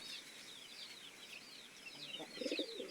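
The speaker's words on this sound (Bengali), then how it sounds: "আমাদের কবুতরটা কিন্তু জোড়া ধরতে চায় প্রচণ্ড চেতা" A pigeon at a small bird farm gives a short, low coo near the end, heard under a steady background of bright chirping from other birds.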